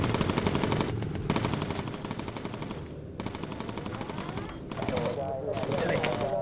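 Rapid bursts of top-turret machine-gun fire from a B-17 Flying Fortress bomber in a video game, loud repeated volleys with short pauses between them.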